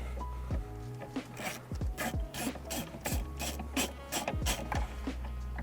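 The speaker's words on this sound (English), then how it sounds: "So if you undo that bolt" A ratchet socket undoes the steering wheel bolt on a Porsche 911 (992): close, crisp ratcheting clicks in quick bursts between short pauses, with metallic rasping as the handle swings back and forth.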